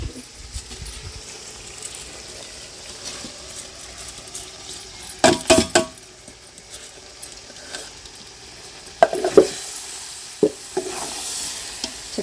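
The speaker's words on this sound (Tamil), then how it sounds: "சிக்கனில் சேர்த்து 2 திருப்பி விட்டுக்கலாம்" Soaked home-style rice tipped into chicken in a pot for village-style dum biryani, stirred with a ladle: a soft steady sizzle underneath, with a few sharp scraping and clattering bursts near the middle and toward the end.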